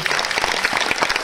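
A university audience bursts into loud, dense applause, many hands clapping at once for a short, steady stretch.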